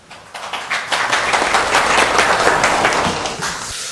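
Audience applause at a forum welcoming a speaker, a dense wash of clapping that swells in over the first half second, holds loud and full, then eases slightly at the end.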